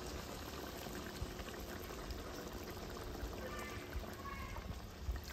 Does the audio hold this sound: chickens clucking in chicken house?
no